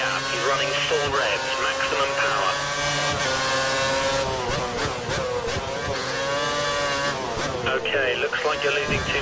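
A race car engine screams at full revs in a racing video game at the India round, its loud whine climbing and dipping through gear changes across the whole stretch.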